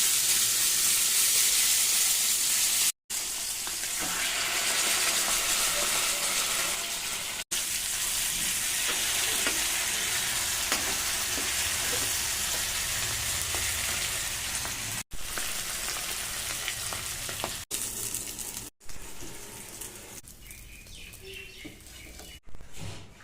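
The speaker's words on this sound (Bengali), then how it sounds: "প্রথমে আমি তেলাপিয়া মাছটা ভাজবো।" Tilapia fish fries in a pan of oil at home, giving a steady loud sizzle and crackle that runs almost unbroken, with a few brief cut-outs and a softer, thinner hiss toward the end.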